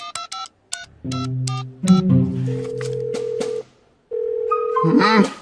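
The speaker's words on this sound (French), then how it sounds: "Réponds au téléphone, réponds au téléphone!" A cartoon telephone being dialed, a quick burst of separate keypad tones followed by a sustained ringing tone that stops and then resumes, with a voice over the final stretch.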